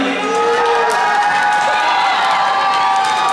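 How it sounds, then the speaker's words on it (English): Crowd cheering and whooping at a roller derby bout between Silicon Valley and Treasure Valley, a loud, steady roar of many voices with scattered high shouts, continuous throughout. "do we have anybody here cheering for Treasure Valley?"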